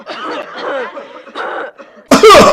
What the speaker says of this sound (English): I cough.